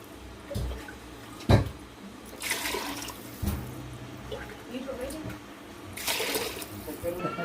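Water splashes and pours into a pot of chicken in a few separate bursts, with clinks of a glass in between.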